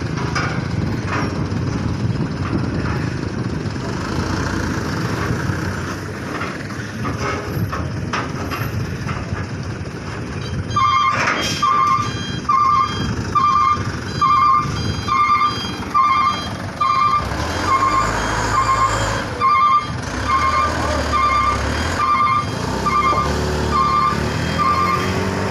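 A loaded dump truck carrying sand and gravel (sirtu) at a dumping site: a loud rumbling diesel engine throughout, joined midway by a steady series of evenly spaced high reversing beeps as the truck backs up.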